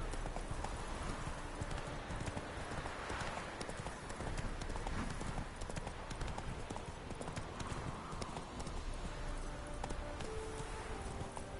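Horse hooves galloping in The Witcher 3, a steady rapid clip-clop of hoofbeats running continuously over a constant bed of ambient game sound.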